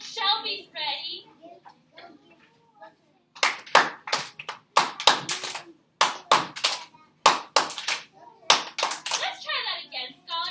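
A teacher claps hands as a classroom signal, sharp loud claps in repeated short rhythmic groups, close by, with children's voices and speech audible at the start and between the claps.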